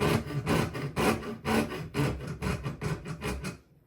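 A small handsaw cuts along a straight line with quick, rhythmic back-and-forth rasping strokes, close and moderately quiet, stopping abruptly at the end.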